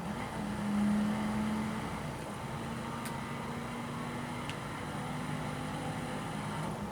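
A car engine in The Crew racing game drones in a steady, moderately loud roar, its pitch holding fairly even with a slight swell near the start.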